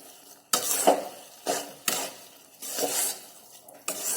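Fresh cream several days old cooks down into homemade mawa in a pan while a spoon stirs it, giving broad scraping sweeps in irregular bursts with short quiet gaps between them.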